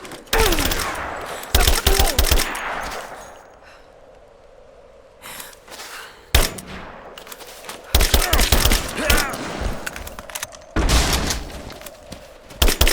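Gunfire in Rise of the Tomb Raider, loud bursts of automatic fire and sharp shots in clusters, broken by quieter gaps with gasping breaths and a distant rumble.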